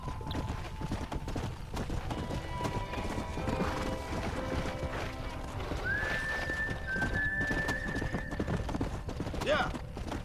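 Horse hooves clip-clop steadily and a horse neighs in Red Dead Redemption, set against a dense in-game ambience while someone talks over the gameplay.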